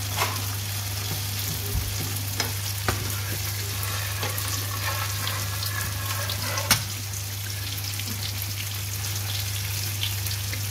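Pigeon porridge is stirred in a pot, a continuous bubbling sizzle with scattered clicks and scrapes from the stirring, set over a steady low hum.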